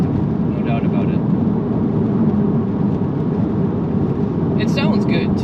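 Steady engine and exhaust drone from a Porsche 987 Cayman S with manual gearbox and standard exhaust, a continuous low rumble heard from inside while driving, with a voice talking over it.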